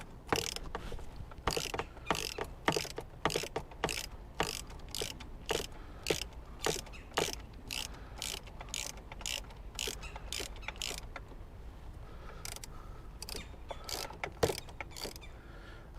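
Ratchet fitted with an 11 mm deep socket tightening intercooler hose clamps on an S&B cold side intercooler pipe, giving a steady run of rapid, sharp clicking strokes close up with brief pauses between bursts.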